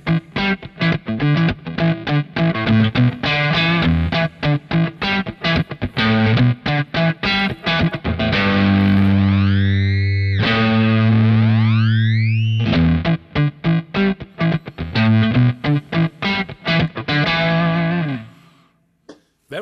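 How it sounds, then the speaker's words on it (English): Electric guitar through a Kemper Profiler's rate reducer effect, giving a gritty, lo-fi sampled distortion; choppy funky riffing with a swooping, morphing bend passage in the middle, loud and alone throughout. "It's the rate reducer."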